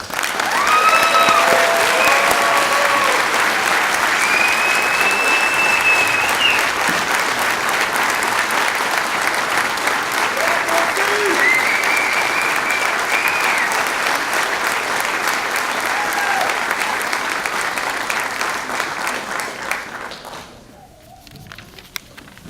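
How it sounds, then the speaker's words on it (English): Sustained, dense audience applause at a DC Fire and EMS recruit class graduation ceremony, steady and loud for about twenty seconds before tapering off with a few scattered final claps. "let's give a round of applause for Recruit Gregory Forsey"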